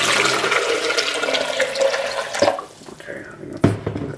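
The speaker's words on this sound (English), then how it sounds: "The directions say to add filtered water to the reservoir." Filtered water pours into an espresso machine reservoir, a loud steady splashing rush that cuts off partway, followed by quieter handling clunks and a sharp knock near the end.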